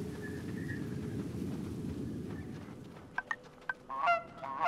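Geese in the video game Knights and Bikes honk in a few short, sharp calls near the end, following a soft rumbling ambient background.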